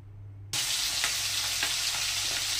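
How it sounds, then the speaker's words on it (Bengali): Khoira hilsa fish hit hot oil in a kadai, a quiet start giving way at once to a loud, steady close-up sizzle that holds to the end. "মাছগুলো কড়াতে দিয়ে দিয়েছি, লাল লাল করে ভেজে নেব।"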